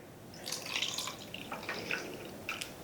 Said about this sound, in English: Now we need to add enough water